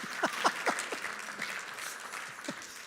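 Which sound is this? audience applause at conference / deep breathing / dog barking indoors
audience applause at conference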